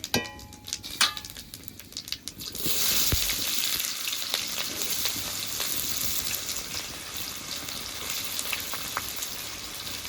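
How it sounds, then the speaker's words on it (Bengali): Chopped onions dropped into hot oil with dried red chillies, bay leaf and whole cumin, starting with a few clatters and then a steady, close sizzle that keeps on at a moderate level, no talking. "এখন নেড়ে চেড়ে কেটে রাখা পেঁয়াজগুলো দিয়ে দেবো"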